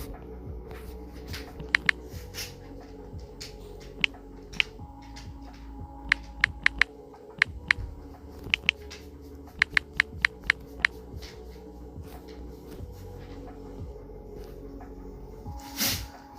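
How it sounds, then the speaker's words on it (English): Someone types on a computer keyboard, producing scattered, irregular clicks and short bursts of keystrokes over a steady low background hum, with a brief louder clatter near the end. "Let me type it in."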